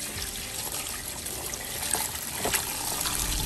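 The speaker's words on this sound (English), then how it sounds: "submerging and washing the technology in water" Electronic gadgets being dunked and scrubbed in water, a steady trickling, sloshing wash with a few small splashes, close and continuous, no voices.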